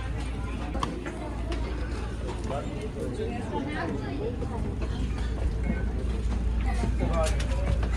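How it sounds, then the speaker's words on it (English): A boat engine drones steadily with water wash and mechanical rattling on a boat ride at Srisailam, India, while people talk over it throughout. "they have kept a safety jacket for everyone to wear in the boat"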